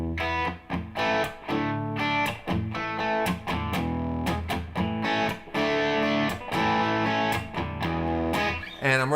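A heavily distorted electric guitar through a Wampler Euphoria distortion pedal into a Dr. Z amp plays chunky chords and riffs, loud and saturated, with rhythmic stops and restarts.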